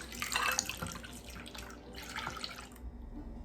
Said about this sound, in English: Once your eggs are whisked up, we can add 1 cup of milk